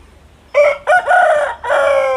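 An aseel rooster at a poultry farm gives a loud, close crow that rises and holds in several drawn-out segments, with no talking over it.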